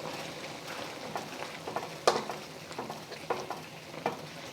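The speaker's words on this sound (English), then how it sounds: "we're just going to stir it up into a slurry. Add it to our sauce." A cornstarch slurry is stirred into a sauce to make gravy, giving soft, close, continuous wet stirring and scraping with a few sharper clinks of the utensil against the pan, over a low hiss of cooking.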